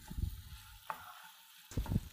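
Sausage meat frying in a pan, soft sizzling crackles in two short bursts with a quiet gap between, close and low in level, no talk.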